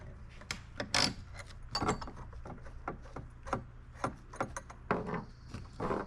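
A nut being tightened onto a bolt on a PVC pipe kayak mount, a run of close, small clicking, ratcheting and rubbing metal sounds in uneven bursts.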